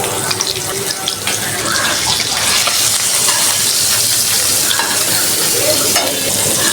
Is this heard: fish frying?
yes